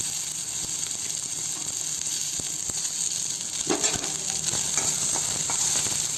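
Sliced onions and green chillies frying in a pan for a Telugu fry dish, a steady close sizzle throughout with occasional stirring scrapes and a slight swell of crackle toward the end.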